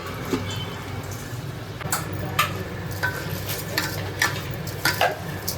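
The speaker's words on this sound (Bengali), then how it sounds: "আর এখানে তো মাংসটা কষা হচ্ছে লাস্টে প্রেশার করতে হবে" Meat being stir-fried in a pot for a Bengali curry: a soft, steady sizzle runs throughout, with irregular spoon scrapes and taps against the pot, close and moderately loud.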